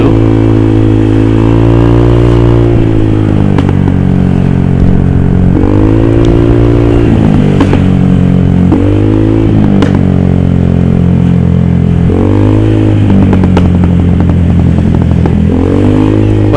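A Honda Vario 150 scooter fitted with a Dastek Juken 5+ ECU tuned for backfire revs close up in repeated rising and falling bursts, with a few sharp exhaust pops as the throttle drops.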